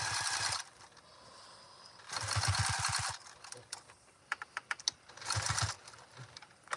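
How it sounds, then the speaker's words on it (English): A sewing machine stitches a seam for a park bag in three bursts of fast, even needle clatter, with softer clicks and handling noises between the runs. "So we have one seam sewn."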